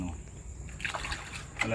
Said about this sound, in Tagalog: kapag mayroon akong tirang tubig, tulad nito, sinasaboy ko na sa loob para hindi nag-accumulate yung alikabok